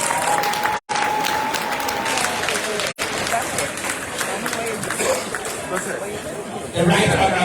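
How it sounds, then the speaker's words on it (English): Crowd applause at a convention dinner dance, steady clapping mixed with chatter and a speaking voice over the top, broken by two brief dropouts and swelling louder near the end. "Can we give a round of applause, please?"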